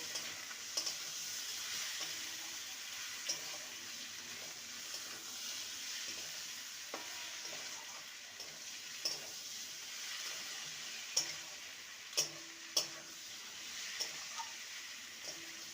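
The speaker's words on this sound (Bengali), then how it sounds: "আলু আর কুঁদরিকে দিয়ে দেবো মশলার সাথে আলু আর কুর্দিকে ভালো করে কষিয়ে নেব" Potatoes and kundri (ivy gourd) sauté with spice masala in a pan, a soft, even sizzle under scattered spatula scrapes and taps, a few louder clacks near the end, no voices.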